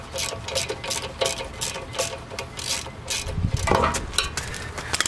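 A ratchet turns screws out of a brake hose bracket on a Honda Accord, giving rapid close metallic clicking in quick repeated bursts, with a short scraping shuffle of metal in between.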